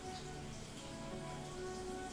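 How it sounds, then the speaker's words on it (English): Light rain showers falling in the video game Trails of Cold Steel III, a steady soft patter of drops over a low droning game ambience, continuous and faint throughout. "In Lviv, situated just west of Heimdall, light rain showers came and went."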